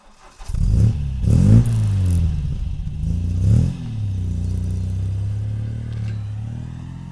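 A 1964 MGB Roadster's engine revs up through a couple of gear changes, then settles into a steady mid-pitched drone while cruising, close and loud with no talking.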